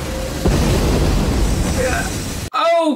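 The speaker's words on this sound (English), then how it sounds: "He is explosion bending. He is just exploding whatever." Explosion bending from Avatar: The Last Airbender, a loud deep boom bursting in near and rumbling on, with a talking voice layered over it before a sharp cut to a clean reverberant tone.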